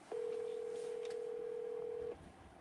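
A telephone tone sounding while a call is placed, a single steady tone held for about two seconds, clear and moderately loud against faint background noise.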